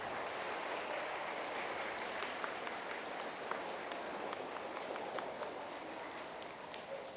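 An audience at a school guidon ceremony applauds steadily, a dense, even wash of many hands clapping indoors that holds for several seconds and fades slightly at the end.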